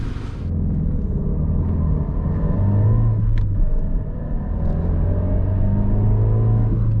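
A 2001 Fiat Brava 1.6 16v accelerating, heard from inside as a steady low engine drone with rising tonal hum and road rumble, continuous and fairly loud with no talking.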